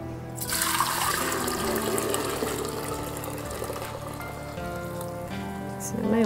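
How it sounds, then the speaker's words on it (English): Sweet tea for kombucha is poured into a glass cookie jar, a loud gushing, splashing stream of liquid that starts abruptly and runs steadily for several seconds before tapering, close by. "I'm just going to pour the tea in the cookie jar."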